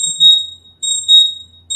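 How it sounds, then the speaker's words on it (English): A high electronic alarm beeps in repeated two-tone bursts, sounding twice in quick succession with short gaps between, clear against a quiet background. "Alarms."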